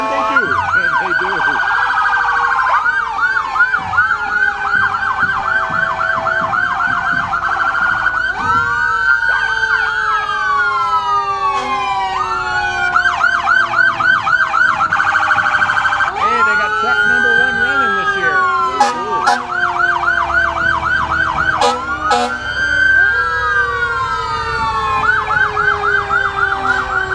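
Fire truck sirens wail over and over in rising and falling sweeps during a fireman's parade, loud and close, with horn blasts mixed in and voices faintly beneath.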